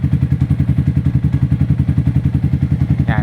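Yamaha Sniper 155 motorcycle idling close up through an aftermarket exhaust pipe with a silencer fitted, a steady rapid pulsing thump with a brief high squeak near the end.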